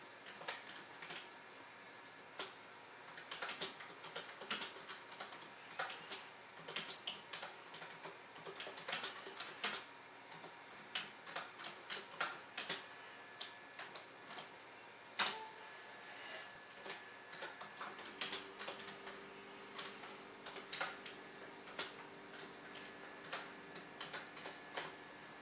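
Quiet, close keystrokes on a computer keyboard typing into an HID terminal linked to a USB microcontroller board, irregular soft clicks in short bursts with brief pauses.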